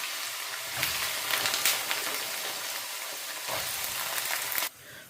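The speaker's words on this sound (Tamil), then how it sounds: "இந்த உருளைக்கிழங்கு இதில் போட்டு பொரித்து எடுத்துக்கொள்ளுவோம்." Cut potatoes deep-fry in hot oil, a loud, continuous bubbling sizzle that swells in bursts and then drops away abruptly near the end.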